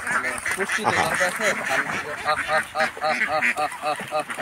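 A flock of Khaki Campbell ducks quacks loudly and continuously nearby on a farm, overlapping calls in a steady chattering rhythm.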